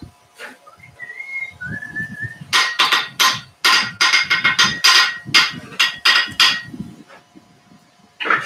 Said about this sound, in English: I'm going to go one more time around it, cleaning it up with a smaller hammer.